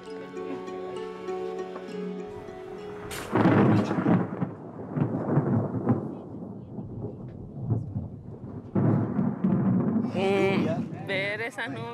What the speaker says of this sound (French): Ce jour-là, une fois de plus, l'orage a grondé.